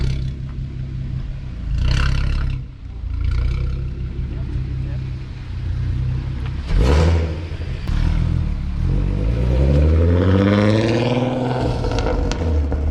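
A straight-piped, decatted VW Golf R32 exhaust rumbling and revving close by, loud throaty idle rising into sweeping revs with a sharp bang midway, while people talk over it.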